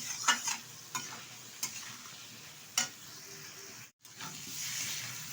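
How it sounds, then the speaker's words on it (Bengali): Pointed gourd and potato stir-fried with spices in a pan, with a soft sizzle, a few sharp spatula knocks, a brief silent gap, then a steadier frying hiss. "ভালোভাবে এবার উপকরণগুলো দিয়ে পটল আলুটা কষিয়ে নেব বেশ কিছুক্ষণ।"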